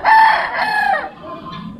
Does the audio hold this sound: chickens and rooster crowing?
yes